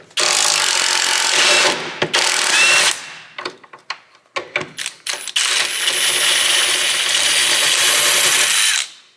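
A 15mm socket on a tool loosens a Loctite-treated control arm bolt on a Volvo S40/V50/C30/C70, giving loud sustained mechanical whirring bursts broken by a stretch of short clicks and clatter.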